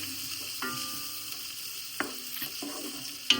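Five crushed onions frying in fish-flavoured oil for king fish biryani, a soft continuous sizzle with a few faint clicks and stirring knocks, no voices.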